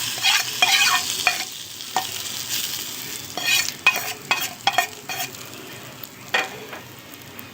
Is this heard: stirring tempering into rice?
yes